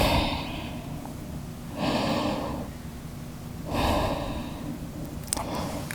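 Deep breaths during a held yoga pose, three long slow inhale-exhale swells, near and fairly loud, evenly spaced with quiet stretches between.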